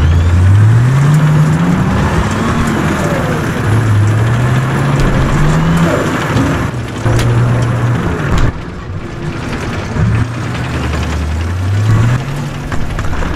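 A tank in a video game drives with a loud, continuous engine drone. The pitch rises repeatedly as it accelerates, then drops back between sweeps, heard up close with no talking.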